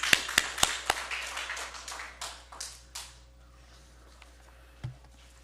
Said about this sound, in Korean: 하나님께 영광의 박수 빨리 돌리겠습니다